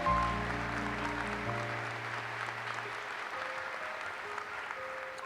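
A graduation ceremony audience claps steadily in a large hall, moderately distant and even throughout, while a low sustained tone fades out early on.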